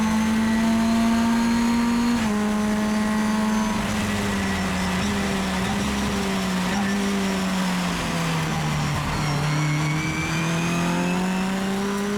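A Mitjet race car engine at Magny-Cours during a stormy race, heard from on board as a loud, sustained drone with rising and falling revs under acceleration, running continuously with a slightly rough, struggling character.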